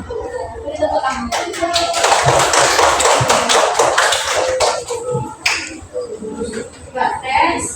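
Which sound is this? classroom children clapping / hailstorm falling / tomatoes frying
classroom children clapping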